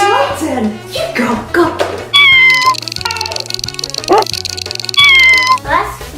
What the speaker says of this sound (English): What's wrong with your cat?